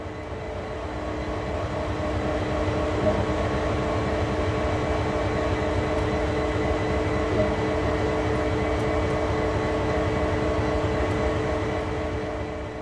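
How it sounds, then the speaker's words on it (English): A locomotive turning on a rail turntable in a video game, heard as a steady loud mechanical drone with a low rumble and constant tones, rising in at the start, holding evenly, then easing off at the end. "Using the rotation control, turn the table and locomotive to the indicated track."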